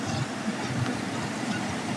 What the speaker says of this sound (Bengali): সারাটা দিন আজকে বৃষ্টির মধ্য দিয়ে আমরা ট্রেনে আসছি।